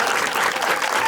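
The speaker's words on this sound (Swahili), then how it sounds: "Tumpigie makofi." An audience at a girls' secondary school event claps together in a dense, continuous burst of applause, loud and close, briefly.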